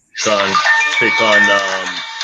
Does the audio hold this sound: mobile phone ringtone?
yes